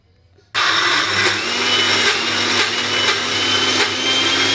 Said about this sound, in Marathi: मस्त असं त्याला आता मला बारीक छान वाटून घ्यायचं होतं मिक्सरला